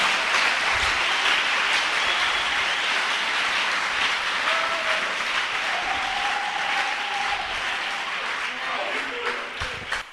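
A church congregation applauds and cheers in a long, dense, steady wash of clapping that carries on for ten seconds, with a faint tonal line drifting through the middle.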